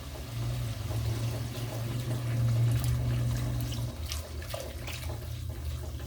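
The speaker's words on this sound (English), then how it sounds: "To that, I'm going to add my packet of milk, okay?" Fresh milk from a packet is poured into a pan and stirred in while cooking a fish wet fry. A steady, moderately loud liquid pour runs for about four seconds, then eases into a softer wash, with no talking.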